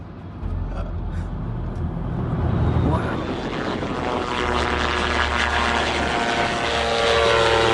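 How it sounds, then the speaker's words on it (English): A propeller airplane drones steadily overhead, its broad engine roar holding loud and continuous and swelling slightly toward the end, with a faint voice underneath. "An airplane appearing to be stuck mid-air, seemingly frozen in place."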